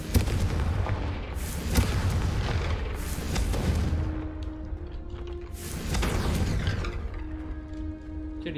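A Confringo blast spell detonates in Hogwarts Legacy, sending out a loud, booming explosion followed by further heavy blasts and rumbling debris that swell and fade over several seconds.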